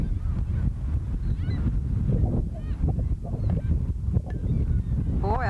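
Seagulls call repeatedly over a windy harbour bay where fishermen are out, loud squawks and cries close by over steady wind and water noise.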